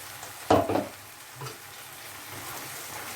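A spice paste of ground coriander leaves, capsicum, green tomato, green chilli, ginger and garlic hits a hot pan with onions, giving a loud burst of sizzle and stirring that settles into a steady, quieter frying hiss.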